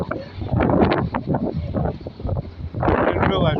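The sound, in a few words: wind blowing against the microphone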